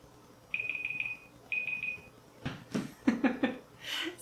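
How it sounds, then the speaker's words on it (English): A kitchen-style countdown timer beeps in two short bursts of rapid repeated tones, followed by rustling and handling noises with some breathing, close by. "I'm gonna let my timer run through"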